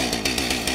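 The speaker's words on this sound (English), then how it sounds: "Sound of the leaf blower." A leaf blower runs in a short, continuous burst, loud and close, with a steady broadband motor roar and a slight pulsing in the airflow.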